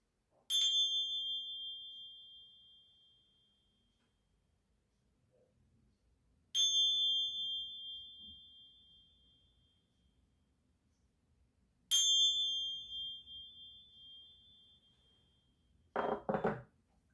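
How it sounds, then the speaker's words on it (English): Three separate bright, high tones from small hand tincture bells struck a few seconds apart, each ringing clearly and fading in the quiet, then a short shuffling sound at the end. "I'm just going to ring my tincture bells just to clear the pathway."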